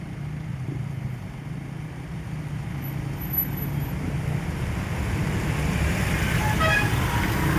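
Heavy stop-and-go traffic on C5 Road near Commando Street in Taguig, a steady roadway rumble of cars and trucks with a few short horn toots near the end.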